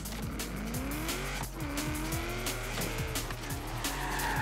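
Car driving in reverse in the racing game Forza Horizon 3, a steady engine drone with whining, rising pitch sweeps and tire squeal running continuously throughout, loud and close with no talk.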